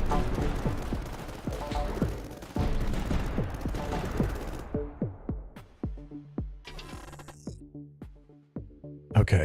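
Light mortar firing in the strategy video game Tower Dominion: a dense barrage of overlapping gunfire and blasts that thins into separate sharp reports spaced about half a second apart, with a loud final burst.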